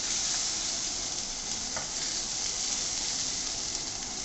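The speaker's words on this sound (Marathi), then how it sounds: "सर्व वाटण टाकून परतून घ्यायचं." Spice paste sautéing in hot oil with curry leaves for a Maharashtrian amti, giving a steady, close, even sizzle with faint stirring scrapes throughout and no voices.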